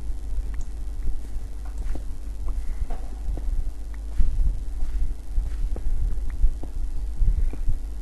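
An electric fan runs close by as a constant low hum with faint rattling ticks on top, in a hot room during a Minecraft gameplay session.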